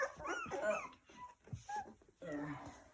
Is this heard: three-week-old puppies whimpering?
yes